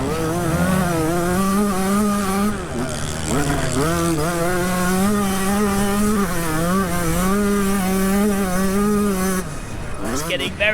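A Chinese dirt bike races on a track, its single engine droning loudly and close with rising and falling pitch as the throttle opens and shuts through corners, sustained throughout with a brief dip near the end.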